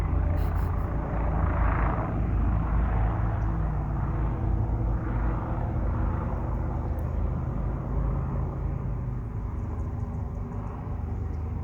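Helicopter passing overhead outdoors, a steady broad rotor and engine rumble that stays loud and continuous throughout, with no clear talk over it.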